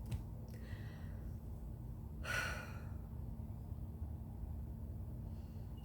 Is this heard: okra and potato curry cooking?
no